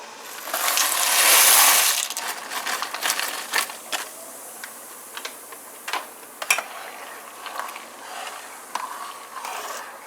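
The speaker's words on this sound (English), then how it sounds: "we're gonna add our noodles to boil here now" Hard, brittle clatter and scattered clicks as dry macaroni noodles tumble into a pot of hot water, a louder rush at first, then sporadic taps settling.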